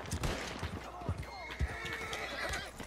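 A frightened horse whinnies during a chaotic shootout in an outlaw western video game, shrill and close amid hoof clip-clop and scattered noise, with excited voices talking over it.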